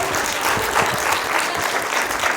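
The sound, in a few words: audience applause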